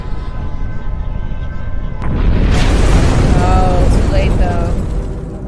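Cartoon bombs fall in a Skibidi Toilet animation and burst in a deep, rumbling explosion partway through, heard under a steady background and excited voices.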